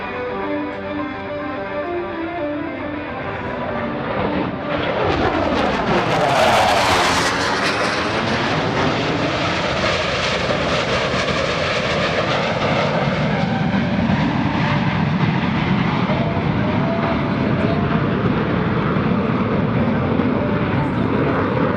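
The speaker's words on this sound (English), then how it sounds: "Showcasing the Hornet's slow-speed flying capability." US Navy Blue Angels F/A-18 Hornet jets at the 2018 NAS Oceana airshow roar past, a loud jet rush swelling to a sweeping pass with falling pitch, then a long sustained engine rumble.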